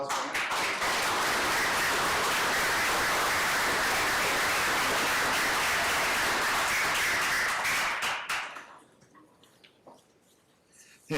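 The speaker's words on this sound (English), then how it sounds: "One more round of applause." A room at a school district board meeting breaks into a dense, steady round of applause that holds strong for about eight seconds, then fades out to near silence.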